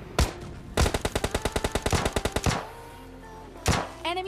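Gunfire from a shooter video game as a player fires on a bot in solo-versus-duo gameplay: a single shot, then a rapid automatic burst of about fifteen loud rounds, and a final shot.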